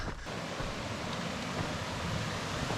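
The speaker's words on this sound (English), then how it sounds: "you can kind of hear the water as you're climbing up" Spring water flows out of rock beside a mountain running trail in Arizona, a steady, full rushing wash that continues without a break and sits close and fairly loud.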